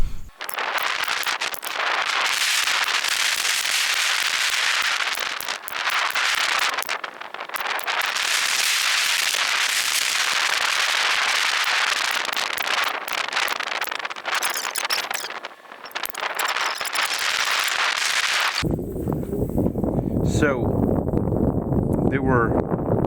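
A high-power air gun fires a long, rapid string of shots in a speed test, the cracks packed densely together for nearly twenty seconds before giving way to a voice talking.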